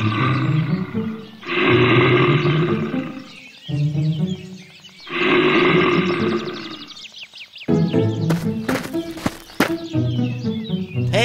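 Big animal roars from a she-bear in a Playmobil cartoon: several loud, long bellowing bursts, pausing in between, then breaking into rougher growls mixed with sharp clatter near the end.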